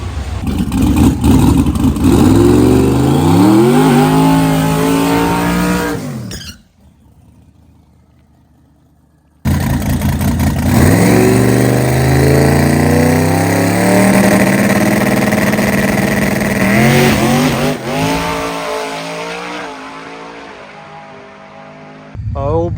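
Radial drag racing cars rev hard and launch down the strip, loud and close: a long roaring run with rising engine pitch, a sudden cut to near silence, then another car screaming off the line and fading.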